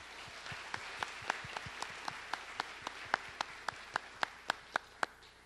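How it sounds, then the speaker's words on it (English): Clapping for ambassador candidates at a festival coronation: a soft bed of applause with distinct, evenly spaced sharp claps standing out in a steady rhythm, some nearer and louder. "let's give them also another round of applause"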